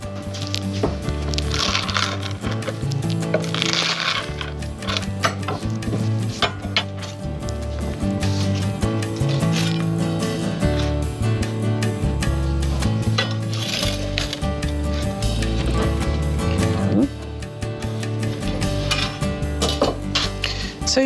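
Knife or pizza cutter working through a grilled pizza, with repeated scraping, crunching and clinking against a board or pan, steady and close throughout, over continuous background music.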